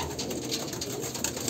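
A Kalanka pigeon of pure Andhra blood line coos softly at close range over a steady background hum, with no voices present.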